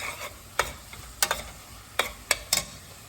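Onions fry in a pan under a soft, constant sizzle while a spoon stirs them, giving about six sharp scraping clicks at irregular intervals, close and fairly quiet.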